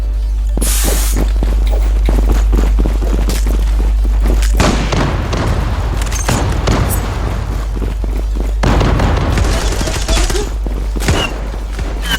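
A bomb blast and gunfire in the online shooter Zula, with loud booms and rapid bursts of shots crowding together, the heavy rumbles recurring several times over a dense layer of game noise.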